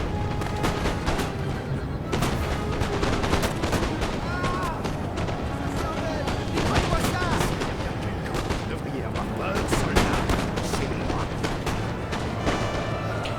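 Musket volley gunfire in the video game Napoleon Total War, British foot guard and King's German Legion units exchanging fire: continuous crackling shots and booming reports layered thickly over a battle din, with some talking underneath.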